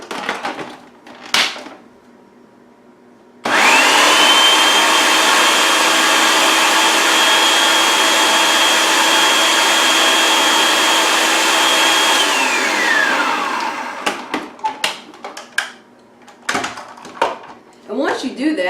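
Food processor blending basil pesto in a home kitchen, a loud steady motor whir that starts abruptly, runs for about ten seconds with a slight pitch drop, then cuts off, leaving clinks and handling noises.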